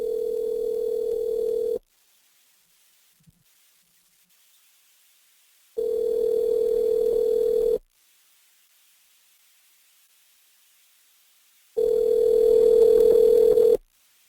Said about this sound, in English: Let me know if you can hear the ringtone.